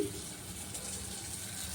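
Gram flour mixed with water pours into a tempering pan for a chutney, a soft continuous liquid gush close by and faint, with no talk over it.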